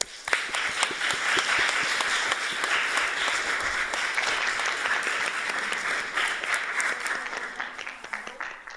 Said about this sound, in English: And thank our speakers tonight. Let's give them a round of applause.